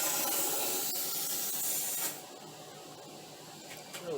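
A frame-coating spray nozzle blasts rust-protection coating in several directions at once, giving a loud steady hiss that drops to a softer spray about halfway through, with no voices.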